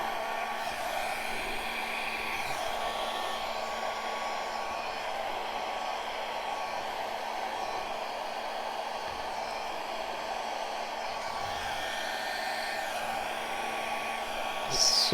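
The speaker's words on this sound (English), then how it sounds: "I say blow dry it." A hair dryer blows steadily on wet paint on a rectangular canvas, a constant close airy whoosh that runs unbroken throughout, swelling slightly louder at the very end.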